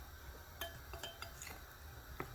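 A spoon stirs a custard powder mixture with sugar, yellow food colouring and vanilla essence in a bowl, giving soft, quiet scraping clinks at an uneven pace, close and faint, with no talking.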